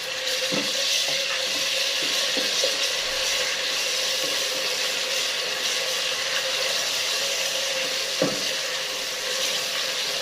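Garlic ginger paste frying in a pan with browned onions while preparing aloo gosht, a steady loud sizzle with a few soft stirring knocks, no talking.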